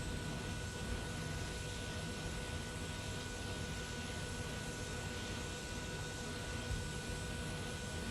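Engine one of a C-160 military transport aircraft spins up during start in Microsoft Flight Simulator 2020, a steady, dense turbine roar and whine holding level throughout, with no talking over it.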